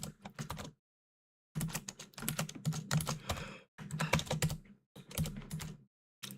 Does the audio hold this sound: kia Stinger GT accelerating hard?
no